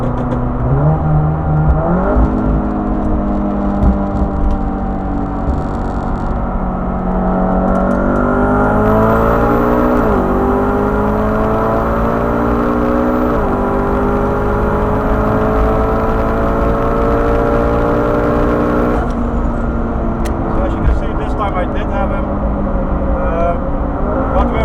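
A 630 hp BMW M4 and a 631 hp VW Golf R accelerate hard on a derestricted autobahn, engine tones climbing steadily with several gear-shift drops, loud and sustained inside the car.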